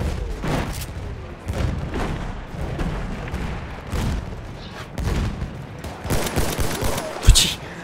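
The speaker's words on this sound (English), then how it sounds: "It's just so many explosions." Dense Battlefield 1 combat audio of repeated explosions and gunfire, booming blasts and crackling shots piling up over eight seconds, with a sharp loud burst near the end and a voice faintly under the din.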